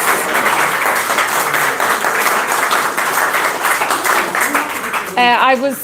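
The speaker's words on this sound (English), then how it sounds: "I'd like to give a big round of applause to all the rest of the team for what they chose." An audience applauds the rest of the team after an evening's selection: a dense, steady wash of clapping runs throughout, and a voice emerges near the end.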